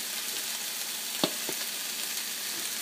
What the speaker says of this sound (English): So I'm just gonna warm it up in the pan.